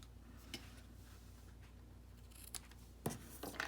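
Ribbon scissors trim ribbon for a paper-craft belly band, giving a few quiet, sharp snips and clicks at irregular moments over a soft room hum, with one louder cut near the end.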